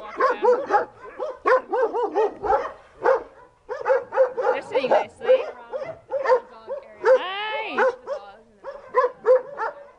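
Several dogs and puppies in Israel bark, yip and whimper up close in rapid, overlapping bursts that continue throughout, with human voices mixed in.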